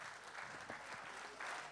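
Audience applause at a rap event in Bitti, a faint, steady patter of clapping from a small crowd, heard from a distance.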